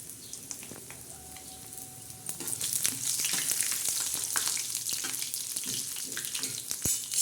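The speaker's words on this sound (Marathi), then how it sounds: "बघा कसं बोंबील खपूस भाजले आहे" Dried bombil (Bombay duck) fish frying in a pan, a steady crackling sizzle that swells louder after the first couple of seconds, with faint scraping and clinks of stirring.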